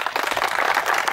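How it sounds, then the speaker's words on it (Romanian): Brief burst of audience applause at a youth sports club award ceremony in Pâncota, steady dense clapping at moderate volume with no talk over it. "Vă rog frumos să-l aplaudați."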